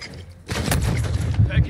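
Gunfire in the Warzone 2.0 video game: a burst of dense, rumbling shots begins about a third of the way in and continues with heavier thumps near the end, with game voice chatter mixed in.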